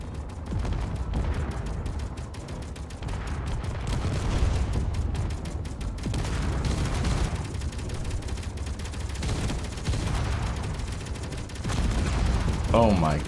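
Battleship cannons in a modded video game fire in rapid, dense volleys, sharp cracks and deep booms piling up into a continuous barrage, loud and sustained, with voices talking underneath.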